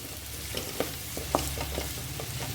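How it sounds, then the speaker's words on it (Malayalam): Capsicum sizzles on a high flame for chilli chicken, a steady close frying hiss broken by a few soft stirring scrapes and taps over a brief span, with no voices. "അതുപോലെ നമ്മുടെ ക്യാപ്സിക്കം, ഇതും കൂടെ ഒന്ന് നല്ല പോലെ ഒന്ന് വഴന്ന് വരട്ടെ."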